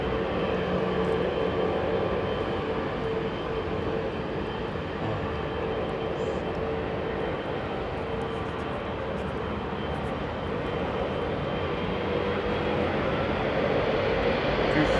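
A Eurowings airliner at London Heathrow Airport gives a steady, loud broadband engine roar that holds for the full stretch and swells slightly toward the end, with no talk over it.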